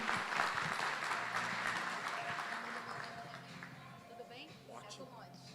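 Applause welcomes a guest at an agricultural trade show, a crowd clapping that fades over several seconds, with a voice talking beneath it.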